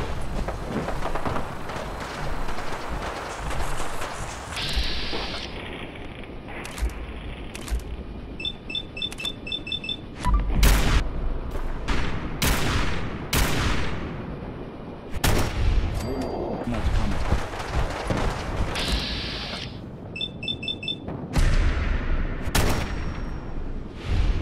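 Battle at Bunker Hill in Fallout 4 erupts with heavy gunfire and explosions, sharp repeated shots and bursts cracking irregularly over a dense, continuous din of combat noise.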